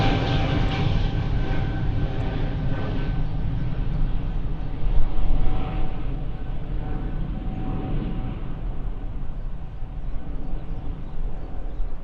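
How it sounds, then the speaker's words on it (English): An EasyJet airliner takes off from Stansted Airport on a quick, light rotation, its loud jet engine roar close and sustained with a whining tone, slowly easing off as it climbs away, with no voices. "as we watch the EasyJet take off"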